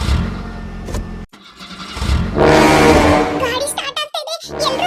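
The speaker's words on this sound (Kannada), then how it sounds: "ಗಾಡಿ ಸ್ಟಾರ್ಟ್ ಆಗ್ತಾ ಇದೆ" A cartoon vehicle engine starts with a cranking burst and then settles into a running rumble, loud and close, with children's voices talking over it.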